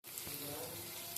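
Onion, green chilli and curry leaves sizzle in hot oil in a pan, a short steady crackling hiss at low volume.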